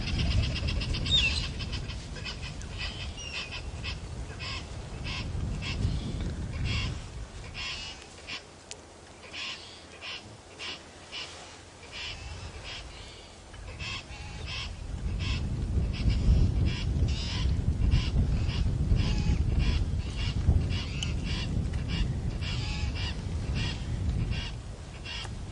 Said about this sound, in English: the cacophony of morning life at a dam